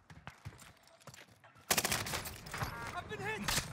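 Gunfire in the Warzone battle royale game, a quiet stretch of scattered shots followed by a sudden loud burst of rapid automatic fire that continues to the end, with a voice speaking over it.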